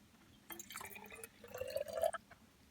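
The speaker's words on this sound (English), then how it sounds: "And now we're going to pour 200 mils of water into the black flask." Water, 200 ml, pouring into a black flask during a lab setup, a quiet trickle that builds to a fuller gurgling fill over about a second and a half before stopping.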